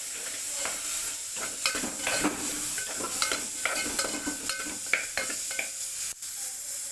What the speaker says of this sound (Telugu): దీన్ని అయితే ఒకసారి కలుపుకుందాం